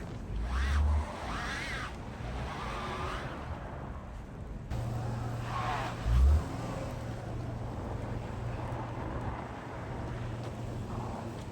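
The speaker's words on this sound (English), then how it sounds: "Cars drive with a good push on the back" Cars crawling through deep snow in a Vladivostok snowstorm, a steady low engine drone with brief revving surges and wind buffeting the microphone, with no voices.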